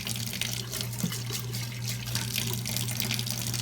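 Water trickles steadily into an empty brush pen ink refill cartridge, a soft, continuous, fairly quiet flow.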